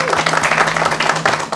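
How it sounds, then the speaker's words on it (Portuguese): An audience gives brief, dense applause for a violinist in a television studio, with a steady wash of claps from many hands. "Palmas para Nath, violino"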